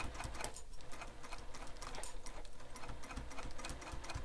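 A sewing machine runs steadily, top stitching around the flap of a messenger bag, a continuous close, loud rapid mechanical whir with no pauses.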